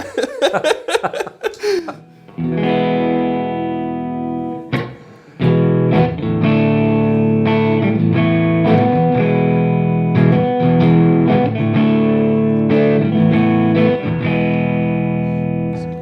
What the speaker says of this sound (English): do you want to just give us some tones, Rafael, and just let us hear the pickup selections